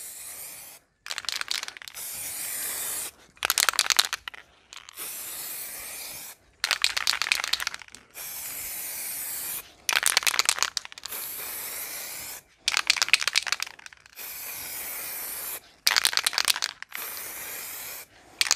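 Aerosol spray paint applied to a car wheel rim: a series of sharp hissing bursts, each lasting one to two seconds and separated by short silences, heard up close and alone.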